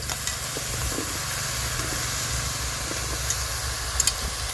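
Eggplant and potato pieces drop into hot oil already seasoned with chilli and five-spice, making a steady hissing sizzle with a few faint clinks from stirring.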